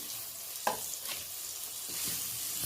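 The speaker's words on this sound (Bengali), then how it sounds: "এইভাবে একটু ভেজে নিতে হবে কাঁচা টমেটোগুলো" Steady frying sizzle of raw tomatoes in a pan, with a few soft scraping stirs and a light clack partway through; no voices.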